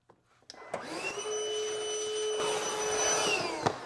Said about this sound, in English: I'm going to go ahead and use my shop vac